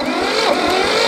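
An old diesel tractor engine, parked for years, revs loud and close, its throttle held high in one continuous roar.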